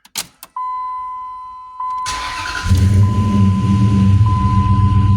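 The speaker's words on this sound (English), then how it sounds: "we're going to go ahead and start the vehicle, let it run for about 10 to 15 seconds" After a dashboard chime tone, a Dodge Ram engine cranks and fires up following an oil change, then settles into a steady, close, rumbling idle with no talking.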